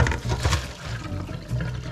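Hot noodle cooking water for extra-spicy Samyang Buldak noodles pours out of a pot into a kitchen sink, a steady rushing splash close by with no talking.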